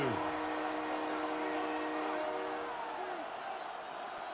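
A Buffalo football stadium crowd roars in disapproval during an NFL game against the Texans, a loud, sustained wash of massed voices that eases slightly toward the end, with a blaring tone near the start.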